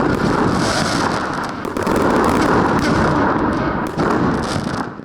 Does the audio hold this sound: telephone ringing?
no